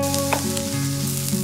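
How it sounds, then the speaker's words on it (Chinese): Diced onion and garlic fry in hot oil for a green spinach sauce, with a loud, close, continuous sizzle and hiss and a few brief stirring scrapes. "接着来准备翡翠酱汁，将洋葱和大蒜丁炒香，"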